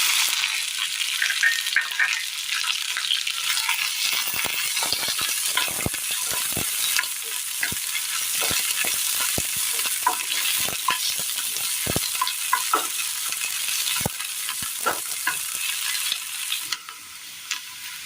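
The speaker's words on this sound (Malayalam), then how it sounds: "ഇതിലേക്ക് കടുകിടാം. വെണ്ടയ്ക്ക അരിഞ്ഞത്," Chopped okra fries in hot oil with mustard seeds in a Kerala kitchen, producing a loud, bright, continuous sizzle dotted with frequent popping crackles and stirring clicks.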